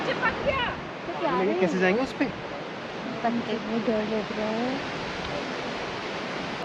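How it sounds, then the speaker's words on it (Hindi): Waterfall on the Kheerganga trek in Parvati Valley, a steady broadband rush of falling water running throughout beneath people talking in the foreground. "झरने की आवाज़ मुझे साथ साथ में आ रही है।"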